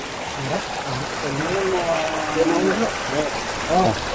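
A creek flows under a bridge in hilly farmland, giving a steady rushing wash of water throughout. Someone talks over it the whole time.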